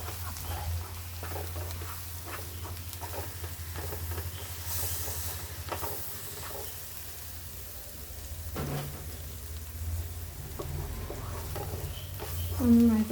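Fried masala is stirred into tomatoes in a pan for a yellow catfish curry, with a steady sizzle and hiss broken by scraping strokes of a spoon.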